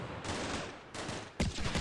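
Automatic Mark 19 grenade launcher fire in the war game Combat Mission Shock Force 2, heard as several heavy broadband bursts of gunfire, with a sharper, louder burst at the end.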